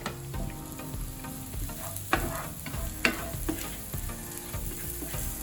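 Onion and garlic sauté in a pan with a steady sizzle, while a utensil scrapes and stirs in a few sharper clanks close by. No one speaks.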